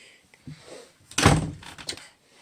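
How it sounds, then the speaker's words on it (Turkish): A door is pushed shut with a solid thunk, preceded by faint handling noise and followed by a brief rattle, close by in a quiet room. "Kapıyı kapattım."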